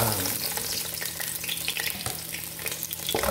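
Onion and garlic frying together in a pan as part of a pancit canton dish with eggs and vegetables, a steady close sizzle with scattered stirring clicks and no talk.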